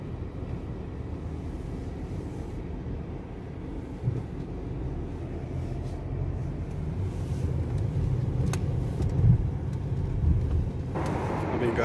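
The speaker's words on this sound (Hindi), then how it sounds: "इधर पार्किंग में गाड़ी खड़ा करते हैं।" A car pulls into a parking lot beside a petrol pump at a market, its engine rumbling steadily and fairly close for several seconds amid outdoor background noise, with a brief sharper noise near the end.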